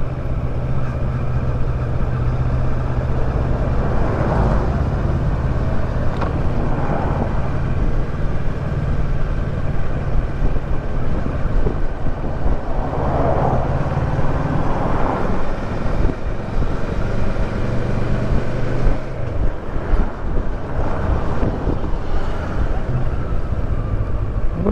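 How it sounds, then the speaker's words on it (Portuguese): Continuous low engine rumble and road noise from a Kawasaki Versys 650 ABS Tourer 2018 motorcycle riding on paved road, with wind buffeting the microphone throughout and no clear talk. "Desse calçamento é bom porque ele não vibra muito a moto."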